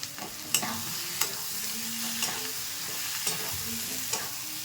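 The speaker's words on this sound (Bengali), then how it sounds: "এবার আলুটা দিয়ে দিচ্ছি।" Potatoes tossed into spice masala that has been fried until the oil separates, stirred in a pan with a soft, steady sizzle and periodic scraping strokes, fairly quiet and without talking.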